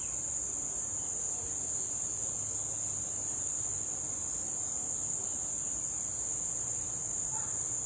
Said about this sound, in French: Mais pourquoi vous grillez autant? Mais pourquoi les grillons grillent?